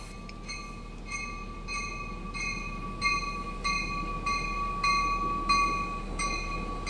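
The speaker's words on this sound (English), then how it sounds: "The actual noise from the 5th Street section here on Comal and 5th." An Austin MetroRAIL train passes at 5th Street and Comal with a steady rumble and a sustained high ringing tone, overlaid by rhythmic, regularly spaced clicks of wheels over rail joints, moderate and continuous.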